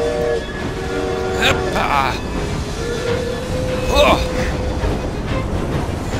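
A train rumbles past in the video game Assassin's Creed Syndicate, a loud, continuous roll with tonal horn-like swells, while someone briefly shouts over it.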